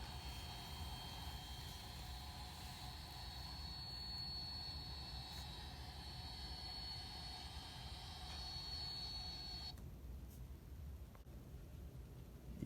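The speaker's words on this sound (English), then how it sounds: "Pan Am then taxis down the runway and parks behind the KLM 747." A Pan Am Boeing 747 taxiing at Los Rodeos airport, a steady low engine rumble with a whining high tone, continuous and moderately distant, with no voices.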